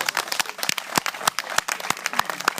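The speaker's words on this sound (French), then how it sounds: "Applaudissements, Gérard et Julien." Audience applause for two guests named Gérard and Julien, heard as scattered, uneven hand claps with sharp individual strikes rather than a full dense ovation, moderately loud and close.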